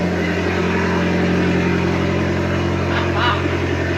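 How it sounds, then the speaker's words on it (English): Fiat 595 Abarth engine idling steadily after a decat install, a loud, close, droning hum with a deep low throb, while people talk quietly nearby. "The car turned on, which is good. Let it warm up, obviously."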